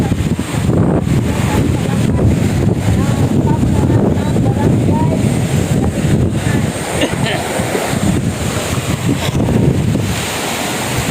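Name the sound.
wind blowing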